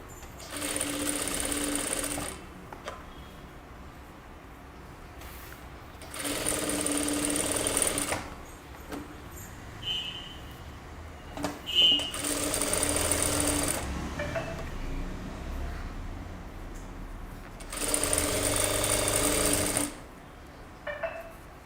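A sewing machine stitches the side seam of a kurta in loud bursts of rapid needle chatter, four runs of a few seconds each separated by pauses with quiet handling sounds.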